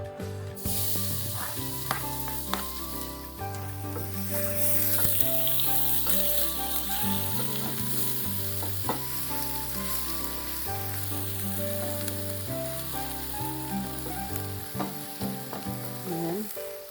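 Garlic and onion sizzle in hot cooking oil, a constant bright crackle that holds steady for the whole stretch, with background music playing beneath it.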